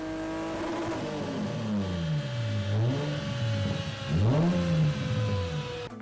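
A BMW E36 engine with an induction upgrade revving up and down repeatedly, the pitch rising and falling in smooth sweeps with a throaty induction roar, close and loud.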